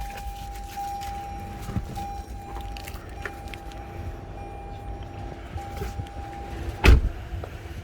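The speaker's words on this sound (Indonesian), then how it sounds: "Sekarang kita coba kunci mobil ini." A Toyota Corolla Altis 1.8 V (E210) locks, and its electric windows and auto-folding mirrors hum closed with a steady motor whine, ending in a sharp clunk near the close.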